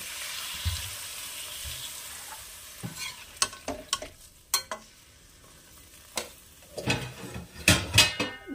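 Water poured into a pan of frying vegetables for a Bengali shish palong dish, with the frying fizzing softly underneath while a utensil scrapes and stirs in repeated sharp, close strokes against the pan.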